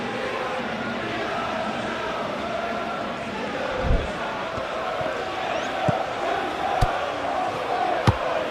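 A stadium crowd in a football video game roars as a steady, dense wash. A few sharp thuds and claps stand out, and commentary talk runs alongside.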